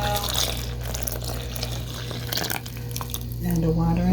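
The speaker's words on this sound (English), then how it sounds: "we finna add the water" Tap water runs into a mixing bowl while baking, a steady close splashing and trickling that continues throughout over a low background hum.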